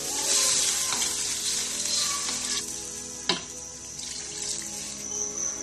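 Soy sauce and water are poured into a pan for pancit bihon, bringing a loud, steady sizzle with bubbling and one sharp clink of a utensil.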